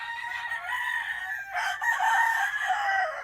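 A young rooster crows in two drawn-out, slightly strained calls, close and fairly clear with no talking.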